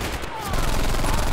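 Gunfire in the mobile shooter Brothers in Arms 3: a dense, continuous burst of rapid shots and crackling noise, loud and close throughout the short stretch with no pauses.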